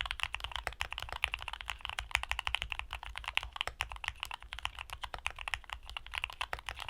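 Steady, close typing on a mechanical keyboard fitted with polycarbonate-housed Aqua King switches, a dense run of deep, rounded keystrokes with no talking.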